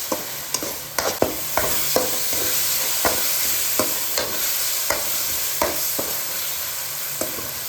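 A spoon scrapes and taps against a pan at an irregular pace while masala with turmeric for fish curry sizzles steadily underneath, close up with no talking.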